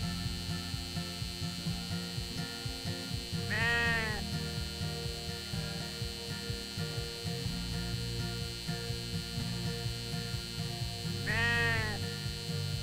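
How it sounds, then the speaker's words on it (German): Sheep bleat in the Farm Land video game on Switch. Two wavering bleats, several seconds apart, rise over a steady electrical hum and light game background sounds. "Das ist jetzt ein bisschen vom Schaf da."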